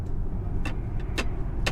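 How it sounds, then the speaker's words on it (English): Three short, sharp knocks, evenly spaced, from an arm hitting a cup, over a steady low rumble of a moving 2017 Tesla Model X 75D interior. "That noise is not the car; it's my arm hitting the cup"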